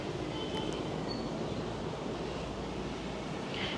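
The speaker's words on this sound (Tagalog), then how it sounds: "Malakas pa rin yung alon." Steady roar of ocean surf with wind rushing across the microphone, a broad continuous wash of sound with no voices.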